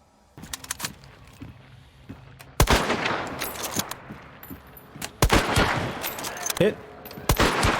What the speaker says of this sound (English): This is the Mosin Nagant and the Conversion Uppercut.